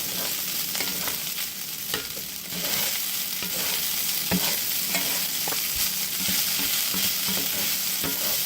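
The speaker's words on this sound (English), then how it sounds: "As we're frying it, just heating it up." Ham fried rice sizzles and crackles steadily in a hot skillet, with repeated scraping and stirring strokes punctuating the continuous frying hiss close up.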